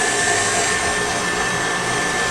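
An electric mixer whips egg whites with cream of tartar, giving a steady, loud, unbroken whir with a broad hiss that stays constant throughout, with no voices.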